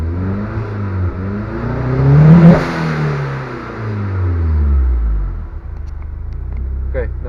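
A VW Golf engine running a start-up map revs up and down with rising and falling harmonic sweeps, loud and close, peaking mid-way and then idling back down.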